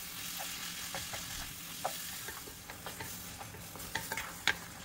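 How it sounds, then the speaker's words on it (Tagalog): Ground beef browning in a pan, frying with a soft steady sizzle while a utensil stirs it in repeated light scrapes and clicks, close by with no talk. "At ipagpatuloy lang po ang pagluto hanggat sa maging brown na po itong ating karne."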